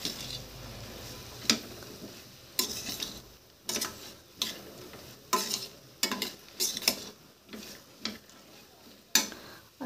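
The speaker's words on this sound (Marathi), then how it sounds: "आता ह्याच्यामध्ये वांगे आपण टाकून घेऊया आणि मस्त ती मिक्स करूया." Eggplant is stirred into hot spices and asafoetida in a pan, with a soft sizzle under a series of distinct spatula scrapes and clinks coming every second or so.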